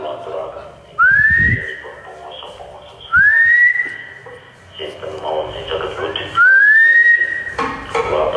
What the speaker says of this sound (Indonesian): Gue coba pakai siulan dulu ya teman-teman ya